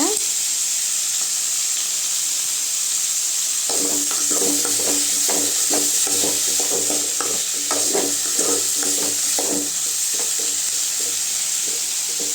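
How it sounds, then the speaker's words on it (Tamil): Bitter gourd sautés with salt in a pan. A steady sizzle and hiss runs throughout, and from about four seconds in, a spoon stirs in a quick, scraping rhythm close by. "கொஞ்சம் உப்பு சேர்த்து வதக்குங்க"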